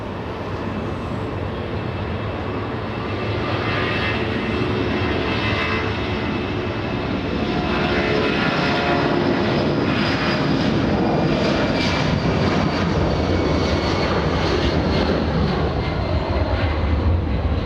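A Lufthansa Boeing 747 takes off at LAX, its jet roar loud and continuous, swelling partway through and holding strong to the end with no voices.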